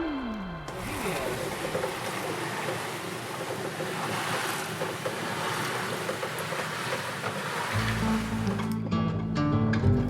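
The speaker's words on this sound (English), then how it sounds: "We're having a nice little sail back to one of our favorite anchorages, Coco Bandera, and it's just perfect wind" Sailboat under way in good wind off the coast of Panama, with steady rushing water and wind noise throughout and a brief low rumble building near the end.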